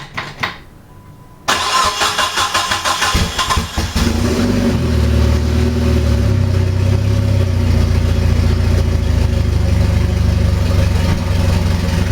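A Mitsubishi Mirage car engine cranks and starts after a quiet pause, briefly revs, then settles into a loud, steady close-up idle that runs on without talk.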